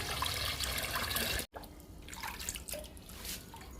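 Homemade liquid made from onion peels and papaya seeds pours from a container onto indoor potted plants, a steady close trickle and splash that breaks off briefly, then resumes as softer intermittent dribbling.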